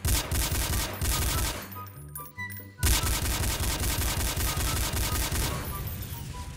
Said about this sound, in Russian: Вы слышите этот звук выстрела?